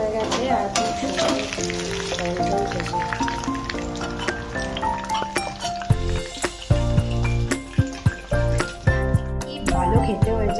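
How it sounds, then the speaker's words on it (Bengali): Onion, ginger, garlic and capsicum frying in a pan for eggless chilli chicken with fried rice, a loud steady sizzle broken by repeated clattering stirs, with sharp knocks in the later part. "পেঁয়াজ আদা রসুন ক্যাপসিকাম সুন্দর করে ভাজা ভাজা হয়ে গেছে।"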